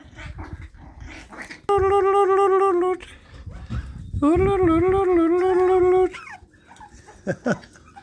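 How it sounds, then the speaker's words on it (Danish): Six-week-old Bichon Havanais puppies whimper in two long, high, wavering whines, with small yips and soft growly grumbles scattered around them, close by. "Det er nogle skønne hvalpe."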